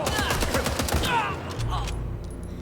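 Rapid shotgun blasts in the video game Indiana Jones and the Great Circle, several loud booming shots in quick succession during a chaotic firefight, with a voice speaking briefly over the gunfire.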